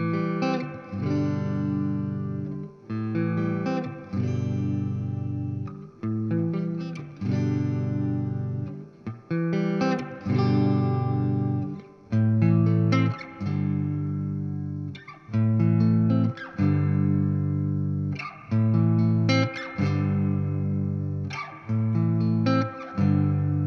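Distorted electric guitar played through a Mesa Studio preamp, loud chords and riffs in steady rhythmic phrases with short pauses, heard alone and close.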